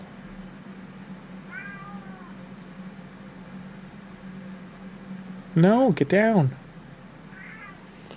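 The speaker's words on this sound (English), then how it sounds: "So I'm debating with my cat." A house cat meowing, a faint early mew followed by a loud, drawn-out pair of yowls and a softer final call, over a low steady hum, with a person speaking briefly.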